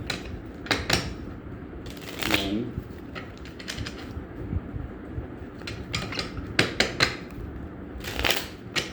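Crisp riffling bursts of tarot cards being shuffled, four separate shuffles with brief pauses, close by, with a voice briefly counting.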